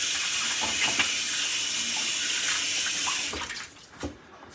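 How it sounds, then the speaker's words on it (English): Kitchen tap running steadily while hands are washed during home pizza making, a continuous hiss of water that thins and breaks up near the end as the flow is interrupted. "let me wash my hands again."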